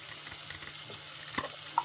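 Schezwan chutney hits a hot frying pan with softened tomatoes, giving a soft, steady sizzle with a few light clicks, faint and close, with no talking.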